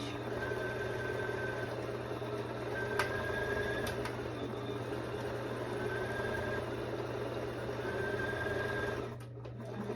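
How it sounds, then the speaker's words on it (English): A sewing machine stitches around the armhole of a dress in one long, steady run with a constant motor hum and rapid needle rhythm, close and moderately quiet, easing off near the end. "lower the presser foot, remove those pins, and work my way around the armhole here"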